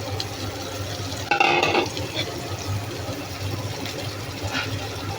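Shrimp fry with turmeric and chili powder in a pan, giving a steady soft sizzle while a utensil stirs and scrapes in brief clinks, with one sharper metallic clatter near the start.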